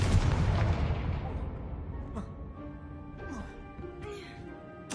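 A Confringo fire spell in Hogwarts Legacy goes off as a loud, booming explosion right at the start, then rumbles and fades, followed by a few softer magical whooshes and chimes.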